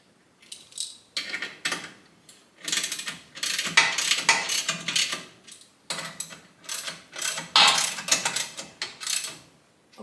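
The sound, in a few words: tightening nuts on a Craftsman 113 jointer infeed table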